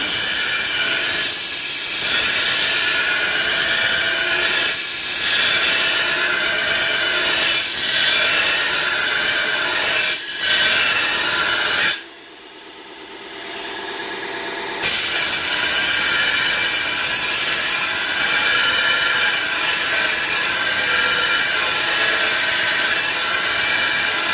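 A garden shovel is ground on an ADEMS sharpening machine, a loud continuous abrasive whine and grinding roar that drops away briefly midway, then resumes at full strength.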